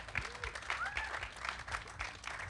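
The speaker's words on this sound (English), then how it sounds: "Can we get a round of applause?" Faint, scattered clapping from an interview audience, thin and uneven for a couple of seconds, with a voice talking over it.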